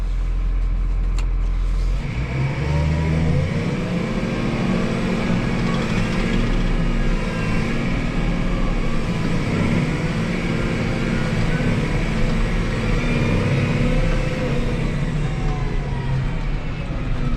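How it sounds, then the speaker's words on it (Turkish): A New Holland TR6.150 six-cylinder tractor in automatic shuttle mode accelerates at full throttle over a short distance, its engine a steady loud drone that rises in pitch as it speeds up and shifts on its own, with no talk over it. "Kısa bir mesafede tam gaz yapıp bir hızlanmasını deneyelim."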